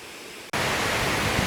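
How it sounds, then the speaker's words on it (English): Chinamata Falls in the Bvumba Mountains of Zimbabwe, a steady broadband rush of falling water that cuts in loudly after a brief quieter moment and then continues unbroken. "Now we are at the Chinamata Falls."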